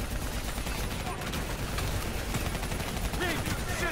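Rapid bursts of video-game gunfire aimed at a VTOL aircraft, dense and continuous across the whole stretch, with voices talking over the shooting.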